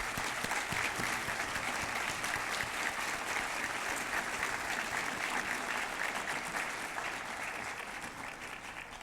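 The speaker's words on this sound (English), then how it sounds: "let's give them a round of applause." A sustained round of applause rises from the audience at a university's State of the University address as officials stand. Dense, even clapping continues throughout and fades slightly toward the end.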